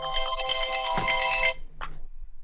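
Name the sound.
timer alarm for pizza in the oven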